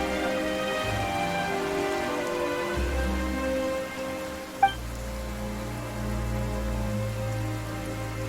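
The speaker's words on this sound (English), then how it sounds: "Why is it raining all of a sudden?" Steady rain pattering on surfaces in the video game Genshin Impact, a soft continuous hiss under low music tones, with one brief sharp chime partway through.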